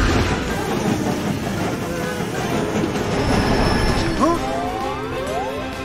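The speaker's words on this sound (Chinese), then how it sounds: "一辆超级火车" A cartoon super train running on rails, a loud, continuous rumbling roll with clattering wheels and a brief metallic squeal near the end, close and sustained.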